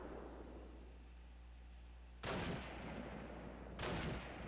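Gunfire in Call of Duty, two loud, abrupt bursts of shooting separated by a quiet stretch of low background hum, each burst lasting about half a second and then fading.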